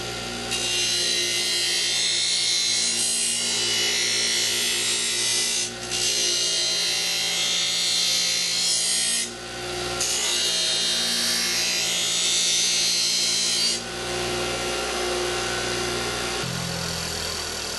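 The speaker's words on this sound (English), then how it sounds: "I'm going to go ahead and use the Scotch-Brite wheel and show you how nice and shiny that becomes" A Scotch-Brite wheel polishes and deburrs a metal part for a Sonex aircraft tail kit, making loud sustained abrasive whirring in three long passes with brief pauses, then winding down near the end.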